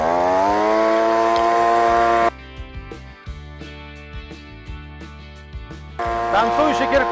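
Oleo-Mac BV250 leaf blower running with a loud, steady engine drone that drops in level partway through, then returns to full strength near the end.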